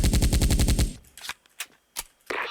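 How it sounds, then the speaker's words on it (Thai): A video game machine gun fires a fast rapid burst for about a second, then a few scattered single shots follow with short pauses before another burst, in a zombie shooter. "ยิงปืนต่อเนื่องนะฮะ"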